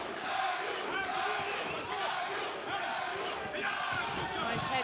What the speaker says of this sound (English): Crowd getting behind a new Bourass.